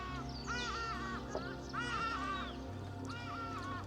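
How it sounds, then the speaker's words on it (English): Birds on a safari ostrich farm in South Africa give repeated harsh, cawing calls in three bursts over a steady low background hum, fairly faint and without talk. "These are Kenyan birds that you see ahead."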